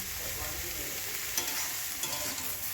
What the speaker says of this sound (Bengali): এরপরে আমি ওই তেলের মধ্যে বেগুন আর ঝিঙেটাকে ভেজে নেবো লবণ দিয়ে